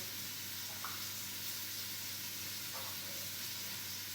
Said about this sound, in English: Sear on here.